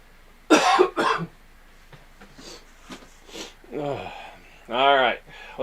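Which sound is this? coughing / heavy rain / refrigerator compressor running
coughing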